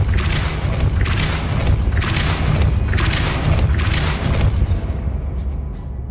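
Depulso force spell cast in the video game Hogwarts Legacy: a run of loud, booming bursts about one per second, each a heavy whoosh-thud, fading out at the end.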